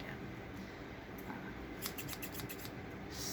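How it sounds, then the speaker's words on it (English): Cheap, long scissors from a Temu order are handled close by, giving a quick run of faint metallic snips and clicks over a quiet background. "Scissors."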